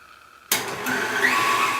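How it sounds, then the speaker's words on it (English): After near silence, an electric stand mixer starts abruptly at medium speed, number 4, beating eggs until frothy. Its motor gives a steady close whir that rises slightly after a moment and then holds. "So lock your mixer. Okay. And turn it on number 4."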